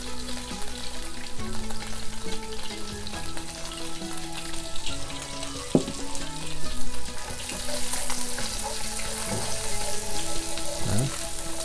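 Garlic frying in a pan for beef and broccoli, a continuous close sizzle with small crackles and pops, while low sustained tones and occasional clinks sit underneath.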